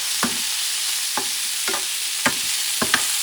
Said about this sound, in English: I'm going to mix the pork with my sofrito